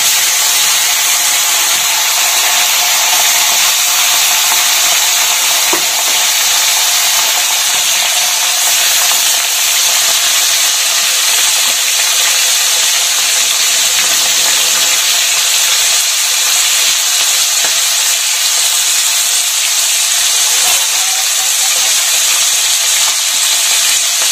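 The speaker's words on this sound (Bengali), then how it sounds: "মাছগুলোকে ভেজে নিব, বেশি কড়া না, হালকা ভেজে তুলে নিব।" Pieces of small hilsa fish fry lightly in hot oil, giving a steady, close hiss and sizzle that runs unbroken throughout with no talking.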